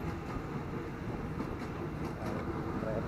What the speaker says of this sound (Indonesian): Kereta bandara lewat.